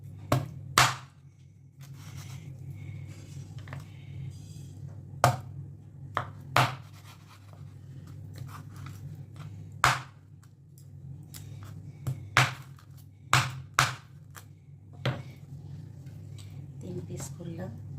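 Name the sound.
cutting magur fish into pieces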